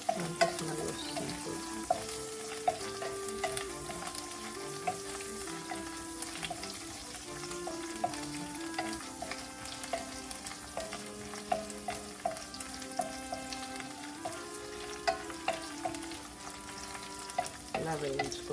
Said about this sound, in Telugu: ఇలా వేయించుకోవాలి, ఇంకా వేగాలి.